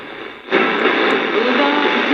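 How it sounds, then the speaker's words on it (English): A GE 7-2826A AM radio is tuned to 1260 WEKZ in Monroe, Wisconsin, and country music suddenly comes in after a quiet moment, then plays steadily but thin and band-limited through the broadcast hiss. "I believe we got country music on 1260 WEKZ, Monroe, Wisconsin, 60 miles northwest"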